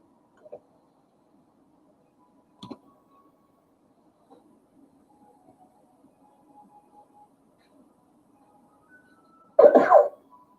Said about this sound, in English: That was a cough, but thank you.